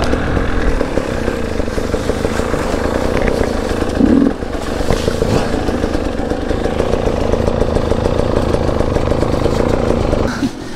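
A two-stroke dirt bike engine whose throttle is stuck holds a loud, buzzy high rev close by, wavering slightly with no drop to idle, and surges briefly around the middle.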